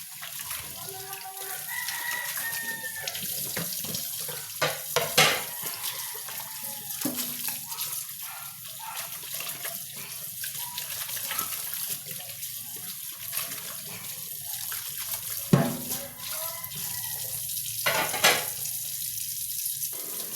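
Water runs from a tap with occasional clinks of dishes nearby, while a rooster crows and chickens cluck in the background.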